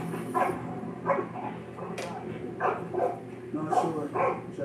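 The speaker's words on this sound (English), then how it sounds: "The dog's definitely gonna blow your cover." A dog in a TV drama barks in several short, sharp bursts spread through the scene, mixed in with ongoing talk and background sound.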